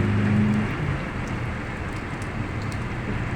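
Heavy rain pours at sea around the passenger ship MV Virgen de Peñafrancia XII near a breakwater, a dense, steady hiss of downpour with a low rumble beneath, continuous and close throughout.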